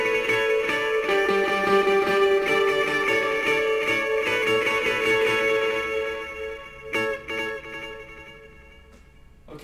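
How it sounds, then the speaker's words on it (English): Electric guitar on an Explorer's bridge pickup, run through two delays in series, plays a clean, ringing part; sustained chiming notes repeat and smear into echoes before thinning out and fading near the end. "I've got the two delays in series"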